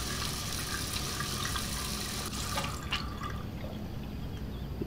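Water runs steadily at a sink in the video game Heavy Rain, a soft continuous splashing stream that thins out toward the end with faint drips.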